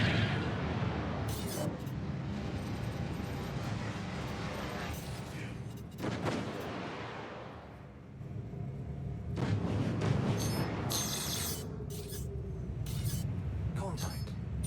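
Gunfire in a shooter video game, with bursts and booms of weapons fire mixed into dense game noise and explosions across the scene, while a voice talks over it.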